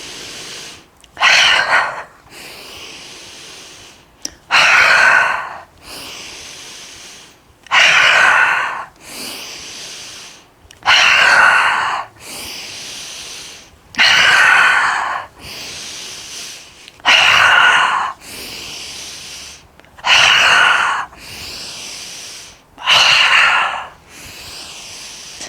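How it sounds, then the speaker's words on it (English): Deep rhythmic breathing during a yoga flow, loud close inhales and exhales in a slow, regular cycle, about ten breaths separated by short quiet gaps. "Inhale. Exhale. Inhale. Exhale. Inhale. Exhale. Keep going."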